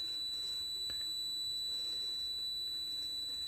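Continuity buzzer of a multimeter beeping steadily while its probes measure a resistive heating element, a thin continuous electronic tone held alone without speech, faint room hiss beneath.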